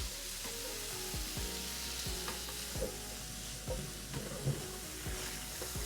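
Shrimp and crab fried rice being stirred in a hot pan, with a steady sizzle under repeated scraping strokes of a utensil against the pan, close and alone with no talking.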